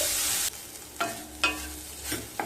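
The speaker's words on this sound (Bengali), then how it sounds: "উচ্ছেগুলোকে ভালো মতো ভেজে নেব।" Bitter gourd frying with a pinch of turmeric in a kadai, a steady close sizzle broken by four or five sharp stirring scrapes spaced about half a second apart, with no talking.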